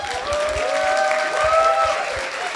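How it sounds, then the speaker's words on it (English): Audience applause at a startup pitch event, a steady wash of clapping from a crowd lasting throughout, moderately loud, with a held electronic tone faintly underneath. "give a lot of love and applause to Oh My George"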